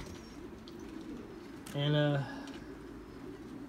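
A pigeon gives a single short coo in a pigeon loft, quiet and close, with low background noise before and after it.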